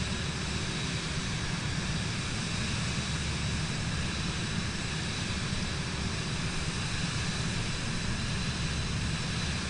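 A steady aircraft engine drone in Microsoft Flight Simulator 2024 on PS5 hums at an even, constant level throughout, with no talking over it.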